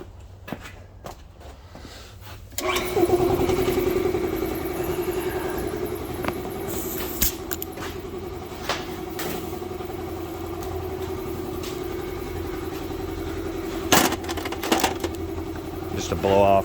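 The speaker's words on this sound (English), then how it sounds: "Go turn the air compressor on." An air compressor kicks on a few seconds in and runs loudly and steadily, a droning motor hum with a rattling pump beat and occasional louder clanks.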